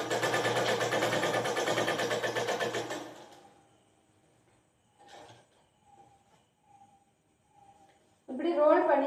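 A sewing machine stitches cloth in a fast, steady whirring rattle for about three seconds and then stops. Soft handling clicks and a brief voice follow, and the machine starts again at the end.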